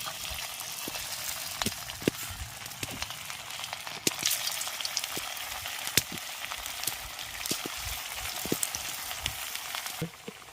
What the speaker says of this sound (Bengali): এবার এগুলোকে ভেজে নেব তেলটাকে খুব ভালোভাবে গরম করে নিয়েছি